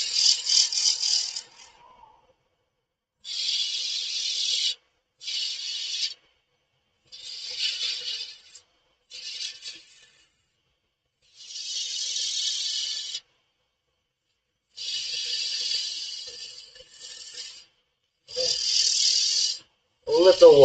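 Sandpaper grits working wood on a spinning lathe, repeated bursts of raspy hiss of a few seconds each separated by silent pauses, with a brief voice near the end.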